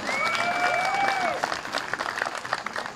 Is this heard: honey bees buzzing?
no